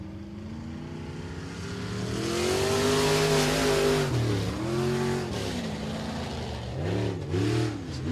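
Race cars at Boothill Speedway time trials roar past on the track, a loud sustained engine drone with rising and falling pitch as cars pass, Doppler sweeps near the end, no talking.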